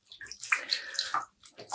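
Water is squeezed out of a wet, freshly dyed yarn skein, producing several close, quiet splashes and trickles in short bursts with brief pauses.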